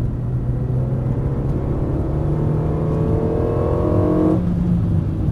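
A race car accelerates on the Dreux circuit, its engine note climbing loudly and steadily close by before easing off near the end.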